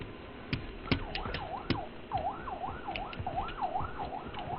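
A police siren in a video game wails in a steady rising-and-falling cycle, loud and repeated, punctuated by a few sharp clicks and pops, with no talking.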